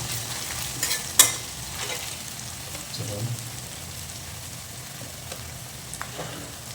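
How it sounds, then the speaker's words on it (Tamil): Green chillies sauté in about 5 ml of sunflower oil in a pan, giving a continuous soft sizzle and crackle with a few sharper pops, close and fairly quiet. "நம்ம இதில் பச்சை மிளகாய் கொடுத்தேன். அப்படியே நல்லா வதங்கிட்டோம்."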